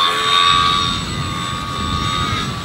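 An Extra 300 RC model airplane engine runs at about 60% throttle, giving a loud, sustained high-pitched whine with a steady drone that eases slightly after the first second.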